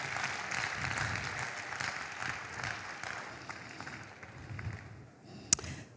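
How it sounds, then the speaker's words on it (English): An audience at a stakeholder forum applauds a speaker, a sustained patter of clapping that thins toward the end and closes on a single sharp knock. "Can we give him another round of applause"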